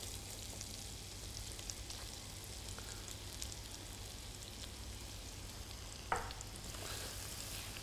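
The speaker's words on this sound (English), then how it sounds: "So the shallot can go straight in there." Finely diced shallot sweats in a pan of rendered fat for risotto, giving a steady, quiet sizzle and crackle with one brief sharper clink, no voices.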